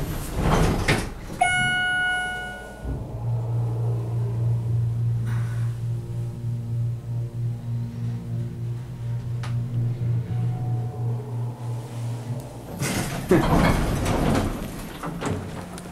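Sliding doors of a Schindler hydraulic ballroom elevator at the Ritz Carlton hotel in Atlanta, with a soft chime, a long steady low hum of the moving door and a louder rumbling clunk as it finishes.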